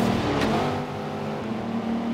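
Steady engine drone from a Range Rover SV driven in the racing game Forza Horizon 3, a continuous hum with a brief burst near the start and no one speaking.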